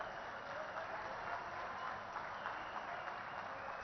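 An audience claps steadily through a continuous wash of applause at a stone laying ceremony for a memento presentation to a Chief Minister, dense and even throughout.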